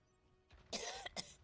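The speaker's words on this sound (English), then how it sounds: "Stop coughing." A person coughs during an online game session, two short, close, throaty bursts in quick succession against a quiet background.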